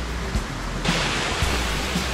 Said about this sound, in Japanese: 地筋の滝に到着しました。